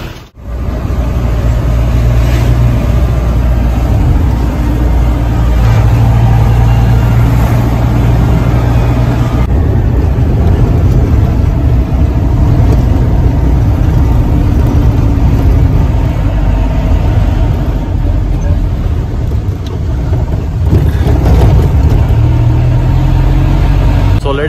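Shared car engine droning steadily on a winding mountain road toward Sikkim, loud and continuous with slight shifts as the vehicle works through gears, road rumble filling the low end throughout.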